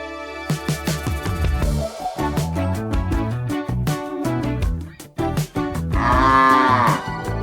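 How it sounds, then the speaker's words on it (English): Cattle mooing loudly and repeatedly at close range, with deep drawn-out calls overlapping one another, beside a small-aircraft runway at a mountain airfield, with no talking. "We are here, and there are cows everywhere."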